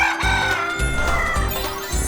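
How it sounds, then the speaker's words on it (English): A rooster crows once, a loud, close cock-a-doodle-doo call rising and falling over about two seconds. "do you remember this animal? Yep, it's a rooster."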